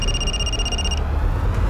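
A telephone rings inside a house: a bright electronic ring holds for about a second and then cuts off, leaving low room hum.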